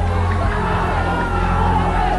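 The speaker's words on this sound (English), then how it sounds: "The animal's yelps of pain can barely be heard over the cheering crowd" A dense, loud crowd cheers and shouts continuously around an illegal dog fight, with whoops and overlapping voices forming a steady roar.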